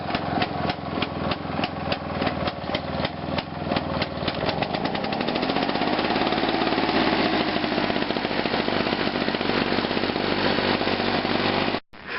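A small two-stroke lawn mower engine idles very low, a steady loud rapid put-putting close by that slows and settles after a few seconds, running evenly before cutting off abruptly at the end.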